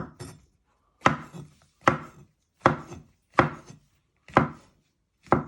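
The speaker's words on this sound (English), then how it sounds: "Just keep doing your mushrooms. So I'm slicing them." Knife slicing mushrooms on a chopping board, seven sharp evenly spaced cuts about a second apart, close and crisp with silence between strokes.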